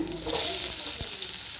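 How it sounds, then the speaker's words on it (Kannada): Chopped onion frying in a pan for a vegetable palya, giving a steady, fairly loud crackling sizzle with no talk over it. "ಈರುಳ್ಳಿಯನ್ನು ಹಾಕಿದ ನಂತರ ಸ್ವಲ್ಪ ಹಸಿ ವಾಸಿ ಹೋಗೋವರೆಗೂ ನಾವು ಫ್ರೈ ಮಾಡ್ಕೋಬೇಕು"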